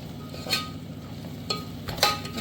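Chicken biryani masala is stirred in a pan over low heat, sizzling softly and steadily, with sharper scrapes of the spoon against the pan at intervals.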